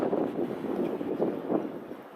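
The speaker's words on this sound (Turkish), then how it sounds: "çok rüzgar var" Steady wind buffets the microphone in low rumbling gusts outdoors at an amateur radio contest, with no voices.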